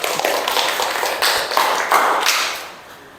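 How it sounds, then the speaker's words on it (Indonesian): A classroom audience applauds a student group after their presentation in a micro teaching economics class, a dense, steady patter of clapping lasting about three seconds and fading out at the end. "Beri aplaus untuk kelompok."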